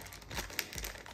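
Plastic packaging wrapped around a pair of sunglasses crinkles softly up close, a few quiet crackles and rustles in a brief burst.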